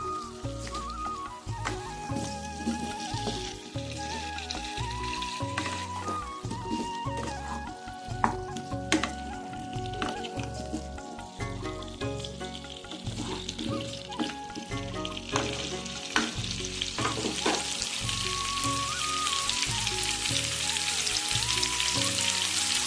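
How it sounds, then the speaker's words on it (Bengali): Potatoes frying in a pan with turmeric, chili powder and salt for aloo do pyaza, a continuous loud sizzle like rain on a surface, steady throughout with occasional stirring scrapes and no talk. "এখানে একটু হলুদ, একটু লঙ্কার গুঁড়ো, একটু নুন দিয়ে আলুগুলোকে একটু ভেজে নেব।"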